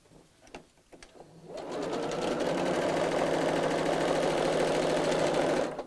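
A sewing machine stitches a double zip pocket bag, starting after a few soft handling taps and then running in a steady, continuous mechanical whir for several seconds before stopping.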